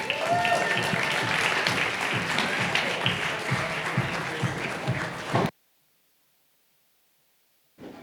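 Audience applause at a startup pitch festival as a participant is welcomed to the stage, dense clapping for about five seconds that cuts off abruptly into silence, with a short burst of sound returning at the very end.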